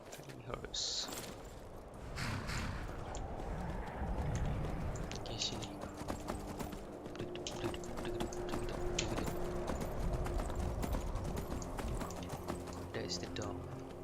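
A horse's hooves clip-clop at a steady rhythm in the video game Skyrim, quiet and close, with small clicks and mechanical ticks around them.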